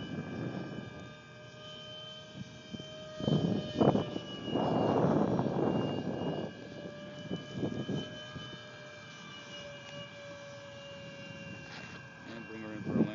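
A model F-15 jet flies over an airfield, its engine a steady whine rising and falling as it passes, with louder surges mid-flight and someone talking over it.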